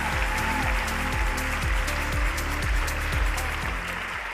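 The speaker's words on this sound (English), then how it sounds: "a huge round of applause for the chair of this year's judging panel" An audience at the International Booker Prize 2023 winner announcement claps continuously for the judging panel chair, a steady wash of applause with a faint rhythmic low thumping running underneath.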